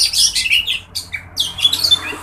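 A kacer, or magpie robin, calls while sunning, with bright rapid chirps and squawky phrases in bursts, close and clear, broken by a short pause.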